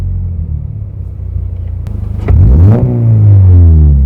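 A car with an aftermarket MXP Comp RS exhaust idles with a low rumble, then is revved hard and close up to about 7,500 rpm, its deep throaty exhaust note rising and holding loud.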